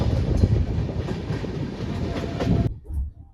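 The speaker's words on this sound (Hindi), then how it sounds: "हमारी ट्रेन अभी जो है जस्ट दादरी रेलवे स्टेशन को क्रॉस की है" New Delhi–Howrah Duronto Express running on tracks near Dadri, a steady loud rumble with rhythmic clickety-clack of wheels over rail joints that cuts off abruptly near the end.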